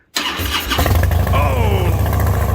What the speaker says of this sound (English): Did you hear that thing whip that engine over like there was no tomorrow?